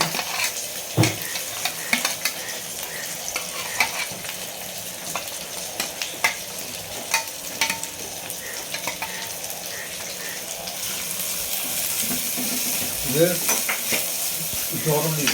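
Garlic sautéing in a pan for a chicken curry with gravy, a steady close sizzle with repeated scrapes and clinks of a stirring utensil against the pan, growing louder and fuller toward the end; no one talks.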